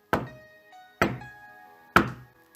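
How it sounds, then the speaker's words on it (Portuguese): Three slow, heavy knocks on a door, spaced about a second apart, each with a short ringing decay, alone with no voices. "eis que estou à porta e bato"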